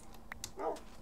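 A dog in the video game Minecraft, played with the Ragecraft modpack, gives one short bark, followed by a faint whimper.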